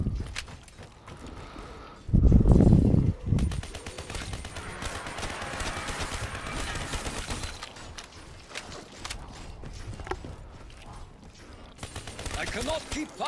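Gunfire in Call of Duty Zombies on the Origins map: a loud burst of shots, then sustained, rapid firing with clattering effects under game noise, with scattered further shots later.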